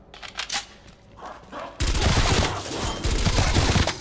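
MP5 submachine gun fire in Call of Duty Cold War Zombies: a few scattered sounds, then a loud sustained burst of rapid automatic shots that carries on to the end.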